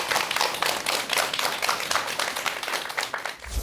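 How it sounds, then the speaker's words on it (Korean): Steady applause from a seated audience at a meditation lecture in Korea, dense clapping that carries evenly for several seconds before thinning out at the end. "큰 박수 부탁드립니다."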